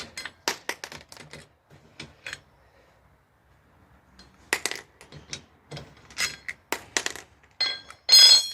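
A T-shaped wrench spins lug nuts loose on a Ford Tourneo Courier wheel, giving bursts of quick metallic clicks and rattles with short pauses between them, close by and fairly sharp.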